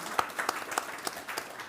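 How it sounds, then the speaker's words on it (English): Audience applause after an introduction of two guests at a civic talk, a dense patter of many hands clapping at moderate distance, steady through the whole stretch with a few sharper individual claps. "let's give them a round of applause, both of them"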